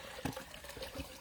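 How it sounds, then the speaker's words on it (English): Natural spring water at Malvern Spring trickles and pours into containers being filled, a soft, close, uneven gurgling flow with small splashy pulses, fairly quiet outdoors. "Filling up our spring water."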